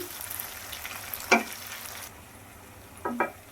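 Onion, green chilli and tomato fry for a Telugu dried fish curry, giving a soft steady sizzle with two brief scraping stirs of a spoon in the pan, the sizzle dropping quieter partway through.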